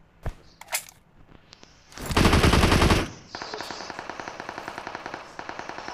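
Gunfire in PUBG on the Erangel map: two isolated shots, then a loud sustained burst, followed by a long run of rapid automatic fire at a steady rhythm, close and alone.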